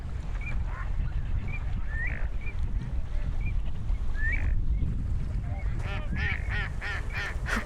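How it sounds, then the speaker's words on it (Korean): Flocks of migratory birds on the Suncheon Bay mudflats call repeatedly with goose-like honks, at first spaced out, then a denser burst of overlapping calls toward the end, over a low steady background rumble. "갯벌과 갈대숲에서 철새들이 날아오르고 여기저기 무리지어 모여있다"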